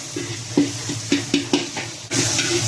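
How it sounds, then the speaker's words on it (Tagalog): Garlic, onion, tomato and onion leeks sautéing in a pan: sizzling frying with several sharp scraping stirs in an uneven rhythm, then a sudden louder burst of hissing steam near the end, close and without talk. "mag-isa tayo ng bawang, sibuyas, kamatis, saka dahon ng onion leeks"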